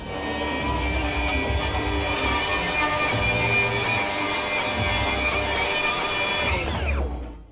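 A Milwaukee Nitrus Carbide saw blade cuts through wood studded with screws, making a loud, sustained whining, grinding cut with a few brief bites along the way, before the blade spins down at the end.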